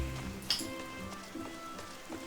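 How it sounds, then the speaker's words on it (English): Soft, steady rainfall in the Final Fantasy XIV A Realm Reborn game world, a faint patter on surfaces with a couple of brief splashy accents over a low ambient bed. "It's raining, but that ain't stopping us"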